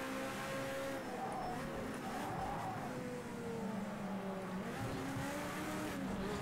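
Race cars roar in a racing video game, a Nissan (Datsun) and a Mercedes battling for position, with a steady, loud engine drone and shifting revs plus faint tire squeal throughout.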